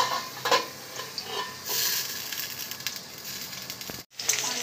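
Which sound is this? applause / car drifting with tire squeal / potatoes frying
potatoes frying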